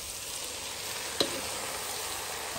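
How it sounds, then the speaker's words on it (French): Tomatoes and brinjals cook in a pot, making a soft, even sizzling hiss with one brief clink partway through, and no talk. "je vais laisser les tomates déglacer le fond de la marmite"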